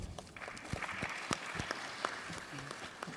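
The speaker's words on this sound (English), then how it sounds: "Pouvons applaudir le professeur Mukoko" Scattered applause in a conference hall at an ordinary session honouring Professor Mukoko, fairly faint and uneven, with a few sharper individual claps and small room noises standing out.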